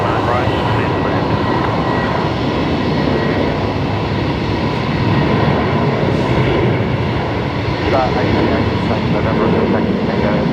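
An aircraft lands on runway 19 right at Brisbane Airport, a loud, unbroken engine roar and rumble filling the whole stretch, with voices speaking faintly beneath it.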